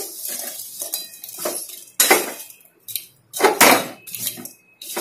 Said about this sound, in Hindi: इसीलिए इसे लगातार चलाते रहना पड़ता है